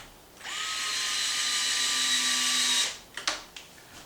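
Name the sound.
power drill tightening bumper screws on an RC car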